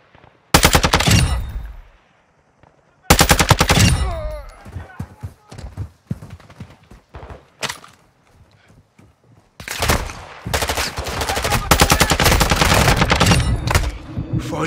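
Heavy gunfire in the Call of Duty Warzone DMZ game, loud bursts of rapid automatic fire in long stretches with brief gaps, mixed with other battle noise and shouted voices.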